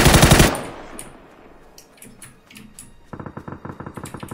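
Gunfire in the battle royale game PlayerUnknown's Battlegrounds: a loud burst of rapid automatic fire opens, scattered single shots follow in the distance, then another fast close automatic burst.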